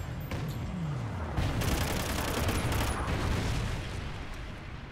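Gunfire in a first-person shooter video game, a dense close fusillade of rapid automatic shots with booming impacts layered over a sustained rumble, loud and continuous throughout with no voices.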